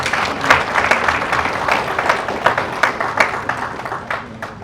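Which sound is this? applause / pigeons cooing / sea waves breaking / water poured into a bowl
applause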